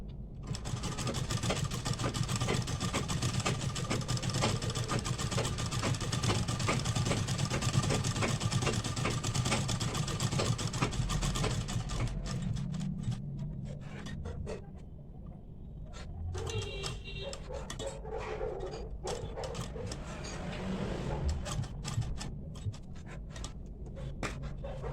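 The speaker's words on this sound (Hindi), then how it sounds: "यहाँ से लेके आकर एक और सिलाई मार दूंगी।" Electric sewing machine running a continuous stitch along a flat collar, a close steady whirring hum that slows and turns uneven in the second half with small clicks and stops.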